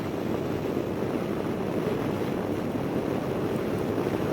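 Steady, loud wind rush while riding a Honda Gold Wing Tour DCT motorcycle, a continuous broadband roar buffeting the microphone with no pauses and no voices.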